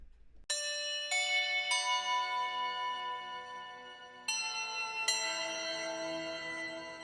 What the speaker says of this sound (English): I really do like that Foundry Bell.